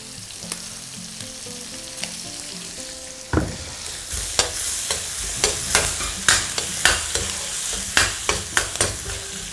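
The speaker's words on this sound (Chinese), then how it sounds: "下入拍破的蒜头、小米椒、干辣椒和干花椒一点点啊，爆香" Garlic, fresh and dried chilies and Sichuan peppercorns sizzle in a hot wok, a loud splash of frying followed by steady crackling and a regular run of scraping stir strokes, close up, with no talking.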